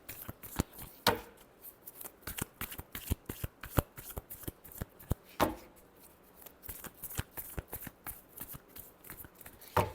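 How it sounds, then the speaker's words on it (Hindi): A deck of cards being shuffled, crisp riffling bursts and sharp snapping slaps that come in quick uneven clusters, close and fairly quiet, with no talking. "Last shuffle."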